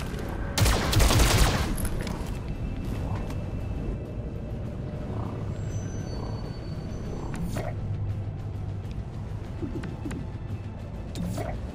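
Video game gunfire in XCOM Chimera Squad, a loud burst of rapid shots near the start, then quieter game ambience with scattered creaks and soft hits.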